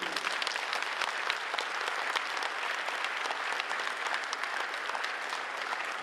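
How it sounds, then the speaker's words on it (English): Audience applause at a vice-chancellor investiture ceremony in Ghana, a dense, steady wash of many hands clapping throughout, fairly distant and even, with no voices standing out. "I think you deserve a round of applause"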